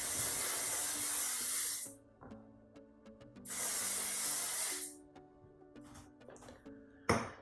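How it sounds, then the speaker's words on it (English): Two long, close hisses of hairspray from an aerosol can, separated by a quiet pause with faint clicks, ending with a short sharp puff. "Okay, I'm gonna spray this."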